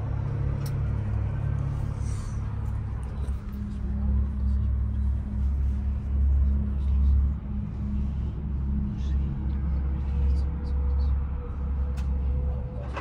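Cable car gliding high above Istanbul, with a steady low rumble and hum running throughout, a constant mechanical drone close by and a few faint clicks over it.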